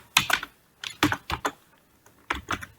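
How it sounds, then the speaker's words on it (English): Bursts of quick keystrokes on a computer keyboard, clustered in short runs with brief pauses, close and clear. "typing my email ID to email text box"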